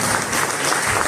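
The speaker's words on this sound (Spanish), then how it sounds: "un fuerte aplauso de corazón para cada uno de ustedes" An audience applauds participants at a third-edition science and technology event in Guatemala, a dense, steady wash of clapping that fills the whole short moment at close range.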